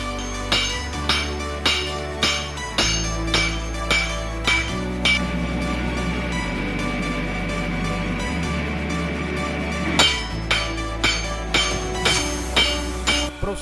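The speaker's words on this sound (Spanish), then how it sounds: "Luego forjamos hasta eliminar los agujeros y obtener las dimensiones de lo que será el cuchillo" Damascus steel bowie knife blade is hammer-forged with a steady series of sharp metallic blows, about two per second. The strikes ring against a continuous low rumble of machinery and are clearly heard, with no voices.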